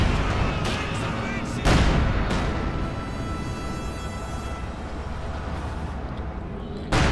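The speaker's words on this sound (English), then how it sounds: "It flees slowly with every shot it fires, as the crew rapidly loads the gun faster and faster." Artillery gun in Company of Heroes 2 fires repeatedly in a 2v2 match, loud booming shots at about 1.7 and 7 seconds over continuous battle noise, with a commentator talking throughout.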